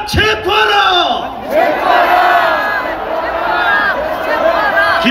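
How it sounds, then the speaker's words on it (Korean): A large rally crowd outdoors at a protest in front of the Sora Tower roars slogans in unison, loud sustained chanting with rising and falling phrases filling the whole clip. "여러분 큰 함성으로 외쳐주십시오."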